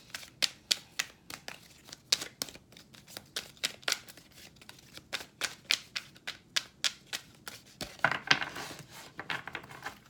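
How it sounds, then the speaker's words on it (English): A deck of oracle cards is shuffled by hand in rapid bursts of riffling, papery slaps and flicks, close and crisp, running for several seconds with brief pauses and no talking. "I just do a little bit more shuffling on camera for those who like to see it."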